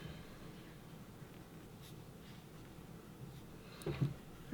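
A pen scratches steadily across paper, drawing squiggly border lines for scrapbook penwork, a soft close continuous scribbling with a brief rustle near the end and no talking.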